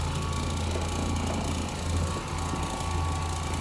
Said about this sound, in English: That's the sound of a brand new Oreck orbiter.